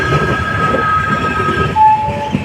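The Udhna–Jaynagar special passenger train runs on after leaving Khandwa, heard from inside as a steady, loud rumble of wheels and carriage with a faint high tonal whine, continuous and without talk.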